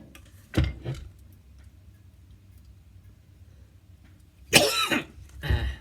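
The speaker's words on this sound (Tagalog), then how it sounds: "May ubo pa rin tayo." Two bouts of coughing, a single harsh cough early on and a louder burst of coughs near the end, with quiet room noise between them.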